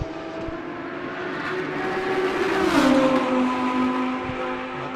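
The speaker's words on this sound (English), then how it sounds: "he's piloting a Ferrari 458 around the Istanbul Grand Prix circuit" A Ferrari 458 in a racing video game laps the Istanbul Grand Prix circuit, its engine whining steadily and then dropping in pitch as it shifts down before climbing again.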